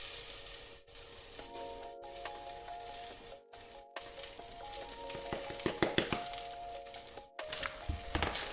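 Onions frying in a pan, a continuous sizzle with crackling bursts, a few clinks and scraping stirs, and a faint tonal hum beneath, moderately loud and close.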